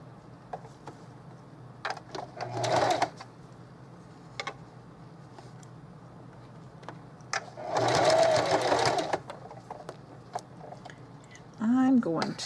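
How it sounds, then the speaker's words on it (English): Sewing machine running a straight stitch along the edge of a vintage lace snap bag, in two short bursts of a few seconds each with quiet handling and shuffling between them. "just a nice little straight stitch right along that edge"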